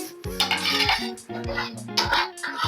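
A spoon scrapes and clinks against a metal pan while stirring fried vegetables into thick white sauce pasta, a quick run of close, ringing metallic strokes.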